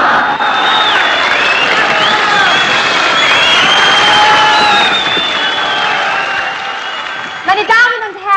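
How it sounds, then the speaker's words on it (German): A theatre audience applauds and cheers in a steady, loud wash of clapping that fades near the end as a voice begins speaking. "Meine Damen und Herren, Ihr Beifall gilt ja eigentlich nicht mir allein"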